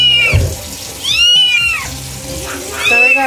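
A six-week-old rescued kitten gives several high, drawn-out meows in quick succession, close and loud, with faint background noise and low murmuring between cries.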